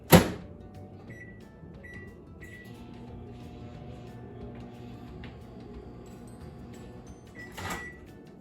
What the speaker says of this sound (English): So now I'm going to put it in the microwave for 30 seconds